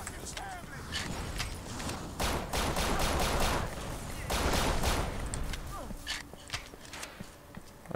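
Pistol shots in the video game Urban Chaos: Riot Response, with quick volleys of fairly soft gunfire arriving in two main clusters and separated by scattered single pops and clattering game sounds, at moderate loudness.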